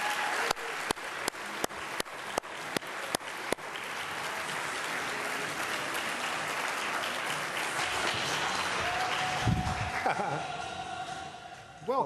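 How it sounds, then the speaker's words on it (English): A studio audience breaks into loud, sustained applause welcoming Grant Woods, opening with a few sharp separate claps that swell into a dense wash of clapping and cheering, fading near the end as a voice begins talking. "How about a big round of applause for Mr. Grant Woods?"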